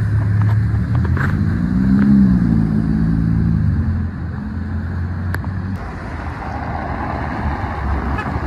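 A stock Nissan GT-R drives past on a Paris street, its engine a low rumbling hum that swells to a peak and then fades, with city traffic noise continuing behind.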